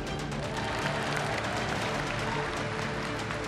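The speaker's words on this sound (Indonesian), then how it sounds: "Tepuk tangannya kurang semangat." Indonesian political rally audience applauding in a continuous, dense wash of clapping and crowd noise that holds steady and fairly loud throughout, with no talk standing out.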